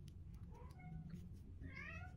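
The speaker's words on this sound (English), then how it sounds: "that's my cat" A pet cat meows several times nearby in a quiet room, a few short rising calls spread across a couple of seconds.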